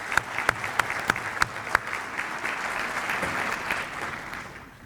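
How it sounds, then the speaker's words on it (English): An awards-ceremony audience breaks into a round of applause, starting with a few sharp individual claps before settling into steady, dense clapping that fades out at the end. "If we can give them a round of applause."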